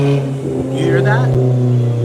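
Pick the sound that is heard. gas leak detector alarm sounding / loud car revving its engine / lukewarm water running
loud car revving its engine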